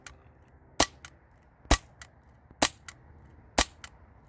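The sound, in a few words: CO2-powered Glock 19 replica BB pistol firing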